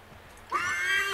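A horse whinnies in the video game Assassin's Creed 3, a single short neigh that starts abruptly halfway through and holds clear and fairly close to the end, with no talk over it.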